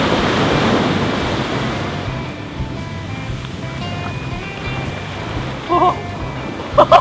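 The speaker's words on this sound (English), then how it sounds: "Get ready for a wave and I'll scoop up some water." Ocean waves break on a beach, with a loud rushing surge at the start that settles into a steady wash of surf and wind noise, followed by a few faint clicks near the end.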